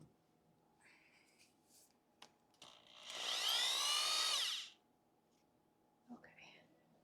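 A power drill whirs at close range for about two seconds, spinning to free a stuck drill bit while making winter cat shelters amid straw debris; quiet rustling and faint whispered talk come before and after the burst.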